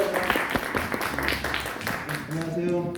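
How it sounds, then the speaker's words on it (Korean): Audience clapping to welcome a lecturer onto the stage at a talk on sustainable water management, brief applause with scattered individual claps mixed with speech and background voices. "뜨겁게 박수로 맞이해 주세요"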